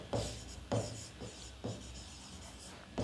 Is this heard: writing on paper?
yes